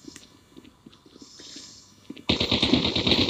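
Automatic gunfire in Call of Duty Mobile, faint scattered shots at first, then a sudden loud sustained burst of rapid machine-gun fire filling the last second.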